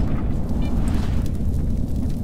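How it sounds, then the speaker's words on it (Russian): A nuclear blast in the video game STALKER leaves a deep, continuous rumbling roar that stays loud and steady throughout, with no voices over it. "Чё это за взрыв был?"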